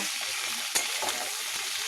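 Vegetables fry in a pan with a constant bright hiss and one or two light scrapes of stirring.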